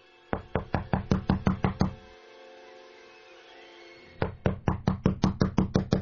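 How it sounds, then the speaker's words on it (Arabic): Knuckles rap on an apartment door where police have come about a young woman reportedly held inside: a rapid run of about eight sharp knocks, a pause of two seconds, then another brisk burst of nine or ten knocks, loud and close. "طرق الباب"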